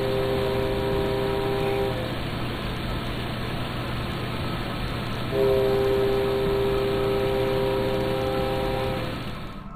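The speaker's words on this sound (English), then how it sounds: "a creepy train toots its horn in the middle of the night" A train horn blares at night in two long, loud steady blasts separated by a short pause, with a low rumbling engine drone underneath.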